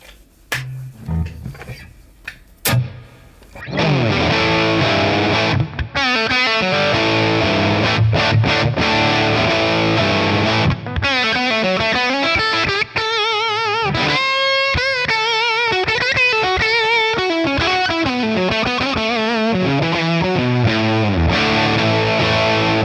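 Les Paul electric guitar played through a 1963 Fender Brown Deluxe amp, distorted and with effects, starting with a few sparse picked notes and then sustained, loud, continuous chord and lead playing with no voices.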